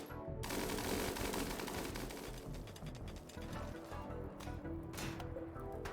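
Defensive turrets in the video game Rimworld fire at attacking raiders, a dense continuous rattle of rapid automatic gunfire that stays loud and unbroken throughout.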